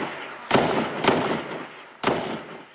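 Gunfire from YPJ and YPG fighters holding a canal line against ISIS: three sharp, loud shots at irregular intervals, each with a short echoing tail over a steady outdoor background.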